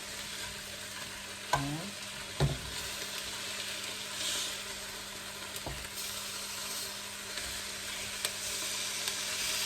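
Pork sizzles steadily in a frying pan as it is flipped, with a continuous hiss broken by a few sharp clatters of turning, and a brief spoken word near the start.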